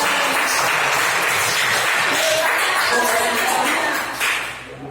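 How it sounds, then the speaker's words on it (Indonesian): A crowd applauds steadily, dense clapping that carries on for several seconds before tapering off slightly at the end. "Beri tepuk tangan kelompok terbang"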